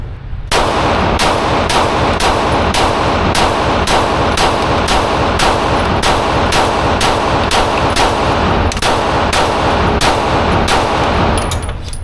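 Rapid string of loud, close gunshots from a Glock 19 pistol with a 19-round magazine, evenly spaced and sharp, continuing steadily with only a brief hitch before ending.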